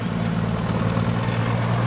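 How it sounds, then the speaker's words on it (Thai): Tractor engine running steadily at close range after rain, a continuous low mechanical rumble and hum with no break or change in pace. "แล้วใครขับรถไถเนี่ย"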